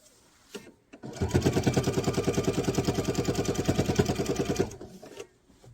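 A sewing machine stitches the final side of a quilt binding in one steady run of rapid, even needle strokes lasting a few seconds, starting and stopping cleanly at close range.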